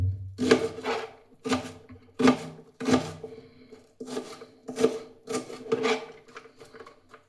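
A knife taps steadily on a cutting board finely chopping onion, about a dozen quick chops in an even rhythm, close and fairly soft, with no talking.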